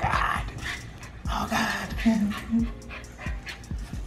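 A puppy whimpers, yips and growls up close in a home, high whiny cries and short pants recurring across the span, mixed with people talking nearby.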